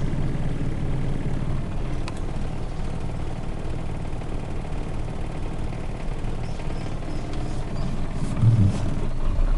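Suzuki Katana engine idling with heavy vibration from a worn engine mounting, a steady low rumble and drone that holds evenly throughout, close and fairly loud.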